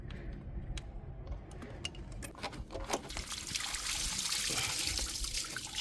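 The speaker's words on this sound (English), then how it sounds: "I'm gonna see if I can't get this lower radiator hose off of here and drain that out" Coolant draining from the lower radiator hose of a Kubota tractor, a continuous splashing trickle of liquid that grows louder and hissier toward the end, with faint clanks at the start.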